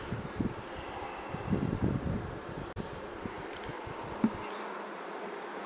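Honeybees fanning at a hive, humming steadily at close range, a soft continuous buzz with light wind noise and occasional handling bumps.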